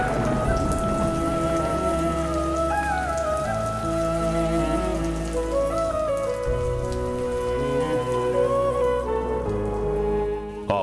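Steady heavy rain pours down, a dense continuous wash of falling water lasting throughout, with no voices over it.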